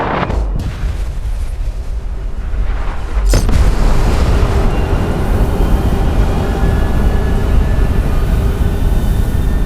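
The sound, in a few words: nuclear bomb explosion at Carhenge in video game Fallout 76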